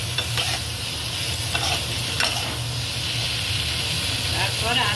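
Cumin paste dropped into a hot pan for a fish curry with potatoes and cauliflower, a steady close hiss and sizzle with light stirring scrapes, faint voices under it.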